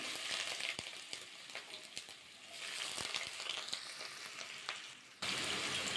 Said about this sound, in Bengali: ভালো করে ভাজা করে নেবো পেঁয়াজটা।